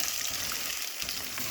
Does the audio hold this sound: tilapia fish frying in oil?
yes